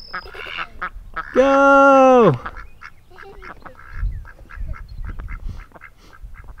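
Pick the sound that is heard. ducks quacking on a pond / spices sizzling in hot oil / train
ducks quacking on a pond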